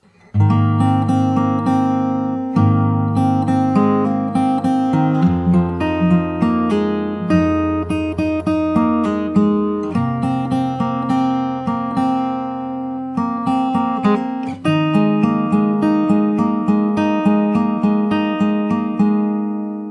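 A solo acoustic guitar plays the fingerstyle verse of a song, with steady picked arpeggios moving through chord changes, close and clear with no talking.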